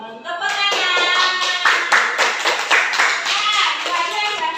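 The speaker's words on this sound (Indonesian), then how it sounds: "Tepuk tangan." A classroom of children claps hands together, a loud, dense burst of applause lasting several seconds with a few young voices mixed in.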